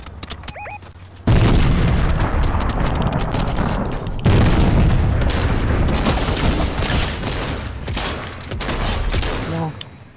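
Explosions and heavy gunfire as a tank is destroyed in a Fortnite match, loud booming blasts and rapid shots filling the clip with a few game sound cues.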